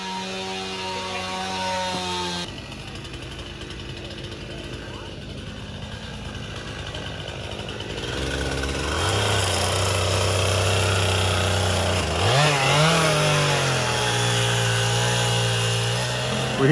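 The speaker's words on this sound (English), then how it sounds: "A chainsaw just randomly started." A chainsaw running outdoors in Brown County, its engine droning, then revving higher and holding a loud, steady whine as it cuts wood, with people talking over it.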